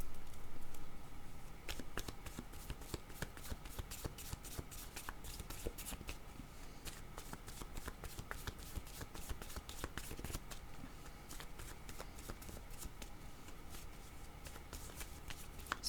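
Oracle cards shuffled and handled continuously, a dense run of soft riffling flicks and slaps that carries on steadily from start to finish at close range with no voices.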